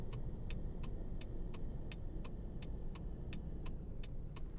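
Steady car engine hum from a taxi driven in the video game Taxi Life, set in Barcelona, a continuous droning rumble with evenly spaced ticking clicks over it, no talk.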